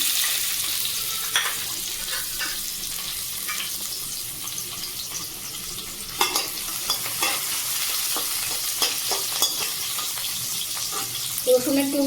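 Chopped onion hisses and sizzles as it hits hot oil in a pan with fried peanuts while cooking Maggi noodles, a steady close frying crackle broken by stirring scrapes and clinks, with no talk.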